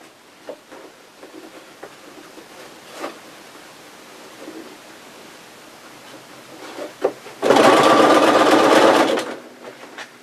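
A sewing machine stitches apron fabric in one steady burst of about two seconds near the end, loud and close, after quiet handling rustles and small taps.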